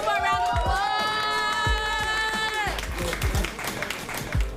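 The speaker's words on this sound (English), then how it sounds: "Let's give it one more round of applause." Audience clapping and cheering in the Davis Brothers Gym, mixed with a shrill whistle-like whoop early on, then rising crowd noise, scattered shouts and footfall-like thumps.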